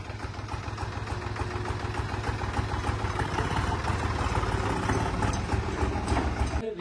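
A New Holland 3630 Special 4x4 tractor engine runs steadily in fourth gear, a dense, continuous diesel rumble with a fast rhythmic chug, loud and close throughout.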